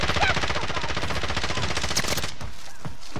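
Rapid bursts of automatic gunfire in Call of Duty: Modern Warfare rattle continuously, then break into a few scattered single shots, all loud and close.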